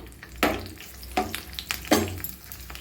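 Buttermilk-cured chillies (challa mirapakaya) fry in hot oil with a soft, steady sizzle. Three louder bursts of crackle and scraping come as the chillies are stirred in the pan.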